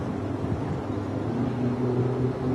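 A low engine drone of a passing boat hums steadily across the scene, moderately close, with a faint tonal whine rising slightly toward the end.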